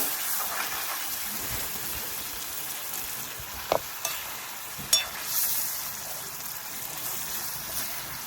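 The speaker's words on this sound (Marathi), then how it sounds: "भाजी आपल्याला मस्त आता मिक्स करून घ्यायची आहे." Vegetable curry (bhaji) with aubergine and potato is stirred in oil in a pan, producing a continuous sizzle with occasional scrapes and taps from the spoon.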